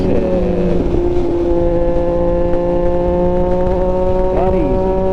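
A 2024 Triumph Street Triple 765 RS motorcycle downshifts while riding. The engine drone is loud and close, and its pitch steps around with a sharp rev blip near the end under wind noise.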